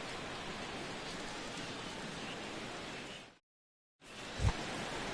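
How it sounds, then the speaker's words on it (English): Steady rain falls over a ballpark during an opening day baseball video game, a dense continuous hiss that cuts out briefly and returns with a low thump, with no talk. "as the rain continues to fall here"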